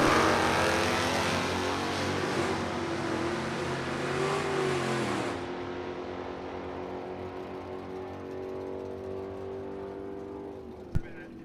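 A Chevelle and a 1969 Camaro drag race at a Pro Avenger index event, with a loud roaring engine run that drops to a lower rumble partway through, while an announcer talks over it, followed by a sharp click near the end.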